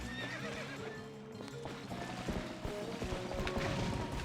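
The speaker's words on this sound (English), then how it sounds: "Panic horsey." A horse in the Zelda Twilight Princess video game gallops with a quick run of hoofbeats and lets out a loud whinny, with more clopping and game noise behind it, fairly quiet overall.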